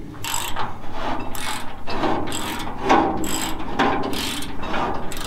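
A trailer jack, welded to the frame of a trailer, is hand-cranked up and down, giving a close, steady run of ratcheting clicks and mechanical clatter in repeated strokes, with no talking.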